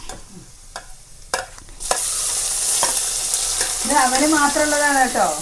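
Tomatoes go into a hot pan and are stirred; a few light clinks come first, then a loud, steady sizzle of frying swells up and continues close by.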